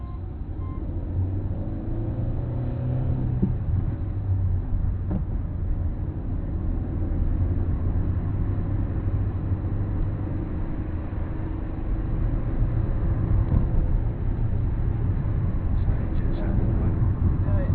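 A learner car pulls away smoothly in first gear with light throttle, giving a steady, close, low engine drone inside the cabin that does not let up.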